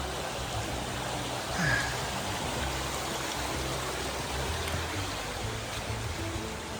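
A river flows beneath a footbridge along a Scottish long-distance hiking trail, a steady, dense rushing of water that fills the scene evenly from start to finish.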